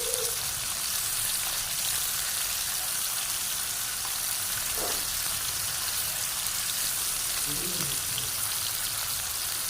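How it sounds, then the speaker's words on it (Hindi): Kebabs frying in a pan give a steady, even sizzle with soft hissing and a few faint pops, close and continuous throughout. "इसी तरह हमें लगेंगे 4 से 5 मिनट इसे फ्राई करते हुए"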